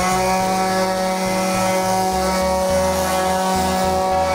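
A palm sander fitted with 3M Ultra Flexible sanding roll runs steadily and loudly throughout, a continuous motor whine with a rough, pulsing grind underneath.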